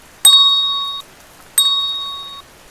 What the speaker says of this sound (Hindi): हाथ में एक घंटी जिसे वह बार बार बजा रही थी।